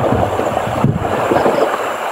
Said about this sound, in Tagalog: Mahina yung alon pero yung hangin malakas.